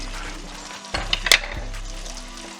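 Seafood jambalaya with pre-cooked shrimp is stirred in a pot, a soft scraping swish and a couple of quick spoon clinks against the metal rising briefly over a low steady background hum.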